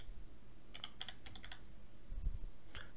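Clicks of a computer keyboard during work in Maya 3D software, a few quick keystrokes in short bursts, close and fairly quiet, with no talking.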